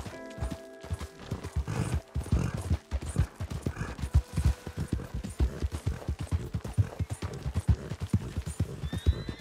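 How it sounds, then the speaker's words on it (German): Horses in the video game Red Dead Redemption 2 trot with rapid, steady clip-clop hoofbeats, joined by neighing and whinnying, with faint mechanical clicks mixed in; no speech. "Pferde, okay."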